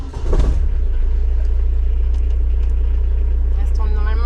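Restored Citroën BX engine idling steadily with a low, constant rumble from start to finish, a brief louder burst near the beginning and faint voices in the background.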